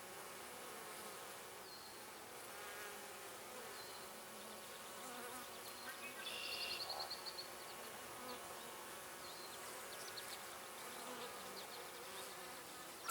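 Honey bees buzz around an open hive during a beekeeping inspection, making a faint, steady hum that swells briefly near the middle.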